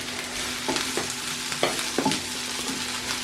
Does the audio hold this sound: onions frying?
yes